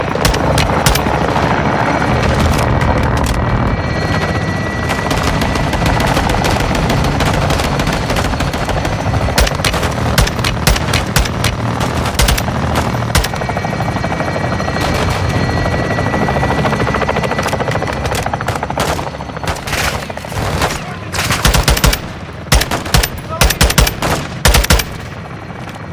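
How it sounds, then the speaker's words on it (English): A helicopter gun run in Call of Duty: Modern Warfare II: the loud, constant roar of rotors runs throughout, layered with rapid machine-gun fire that turns into choppy, stuttering bursts near the end. "Weapons hot for gun run."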